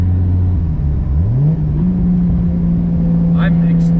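A tuned Toyota Chaser engine in sixth gear, heard from inside the car: a steady low drone that climbs in pitch as it accelerates, then holds a constant tone, loud and continuous throughout.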